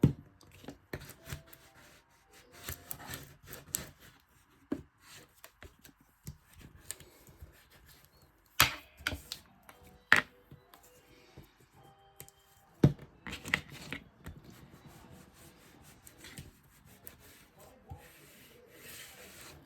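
Bone folder rubbing and pressing glued paper on a handmade journal folio album, close and quiet, with soft scraping strokes broken by sharper taps and presses in an irregular rhythm, and no talking.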